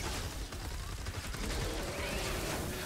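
Rapid bursts of Ramirez rifle fire in Fortnite, a continuous crackle of gunshots throughout, fairly quiet, with a voice faintly underneath.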